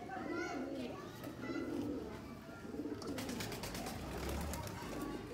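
Pigeons coo in low, rolling repeated calls close by, with a voice and some talk mixed in the background.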